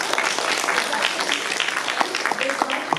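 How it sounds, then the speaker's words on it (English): A classroom of students gives a round of applause, steady dense clapping filling the room for the full three seconds, with some voices mixed in underneath. "So let's give Kathy a round of applause."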